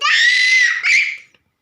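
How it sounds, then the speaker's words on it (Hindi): A child screams loud and close in a high, sustained shriek, briefly breaking before a second shorter burst that fades out. "चिल्लाते नहीं है।"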